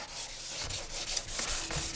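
Back-and-forth rubbing strokes of a sanding block on a flexible Benelli motorcycle fairing, a rhythmic scratchy hiss close up with no talking.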